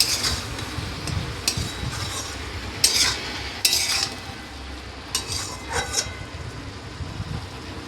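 A utensil scrapes and clinks against a cooking pan as food is stirred, with several sharp metallic strikes between softer scraping and a faint sizzle underneath, close up with no talking.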